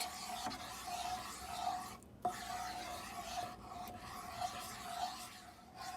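Kada prasad mixture of whole wheat atta stirred in a pan, a faint continuous scraping and rubbing with a couple of brief pauses, heard close and alone.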